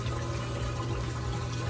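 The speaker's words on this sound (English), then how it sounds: "Sucks it out through a pump and pumps it out through there." A washing machine in a basement pumping water out through its drain during the rinse and spin cycle, a steady loud rushing gush with a low pump hum, close and continuous.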